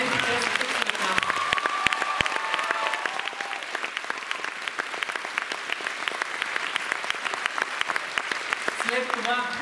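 Concert audience at a folk music school performance claps steadily and loudly throughout, with a singer's held tones audible briefly near the start.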